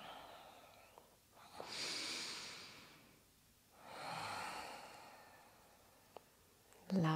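Deep yoga breathing, heard close and soft: one long airy inhale swelling and fading, then a slow, equally long exhale, with faint room quiet between breaths.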